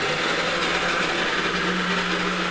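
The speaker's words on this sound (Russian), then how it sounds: "чесночно-имбирная паста и кокос тоже сейчас Парам измельчает в блендере" A blender grinds garlic-ginger paste with coconut, a loud, steady whirring roar that runs unbroken and close with no talk.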